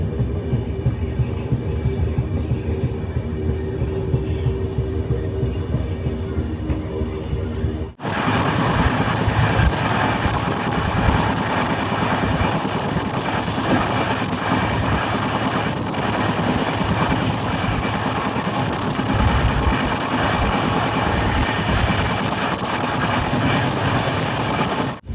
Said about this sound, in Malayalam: ട്രെയിൻ ഇപ്പോൾ ഗംഗാവതി സ്റ്റേഷനിലേക്ക് ഇതാ എത്തുകയാണ്.